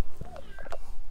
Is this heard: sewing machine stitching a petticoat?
no